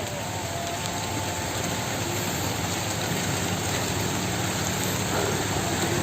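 Steady, dense rain hissing continuously, loud and close, with no breaks and no voices.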